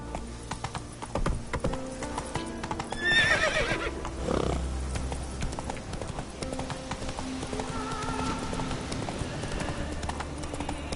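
Horse hooves clip-clopping steadily in The Witcher 3: Wild Hunt, set on Skellige, with a clear neigh partway through and faint game ambience beneath.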